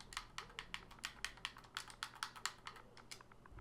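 Rapid, steady typing on a computer keyboard as a console command for an ARK game is entered, a close, even run of crisp keystrokes with no voices.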